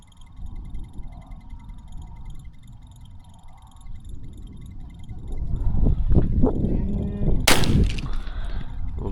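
A .410 shotgun fired once at a flying pigeon during a hunt, a single sharp report late in the clip against a background of quiet outdoor ambience and insects.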